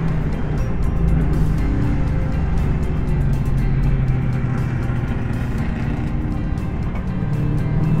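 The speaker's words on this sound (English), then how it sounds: "It's so fun to be out on track with Tom in these two cars." Historic racing cars idling and running together on a track grid at a vintage race meeting, a steady dense engine drone with rapid burbling, close and continuous without talk.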